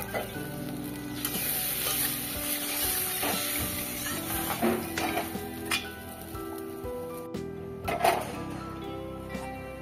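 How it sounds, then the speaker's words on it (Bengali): Rui fish curry gravy in oil, Bengali style, sizzling and bubbling in a pan, with a steady close frying hiss, scattered pops and a few clinks and stirring knocks. "ঝোলটা ফুটছে, এই অবস্থাতে মাছগুলো ঢেলে দিতে হবে।"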